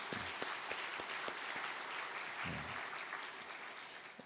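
A church congregation at a special dawn prayer service claps together for those who came forward for a children's blessing prayer, a sustained, even patter of many hands at moderate distance with a few louder claps standing out.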